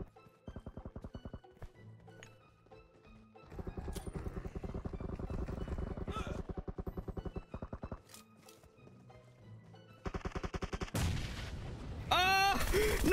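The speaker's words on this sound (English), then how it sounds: "They're shooting forever." Gunfire in the battle royale game PUBG Mobile, with rapid automatic bursts and repeated single shots coming in loud, rhythmic volleys, then a sharp blast and chaotic noise at the end.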